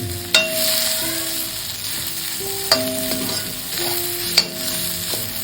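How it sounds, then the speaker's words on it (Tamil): Grated coconut sautéing in a pan with mashed potato for podimas, a steady soft sizzle with a few sharp scrapes of a spoon against the pan, no voices. "தேங்காயை போட்டு கொஞ்ச நேரம் வதக்கினா போதும்"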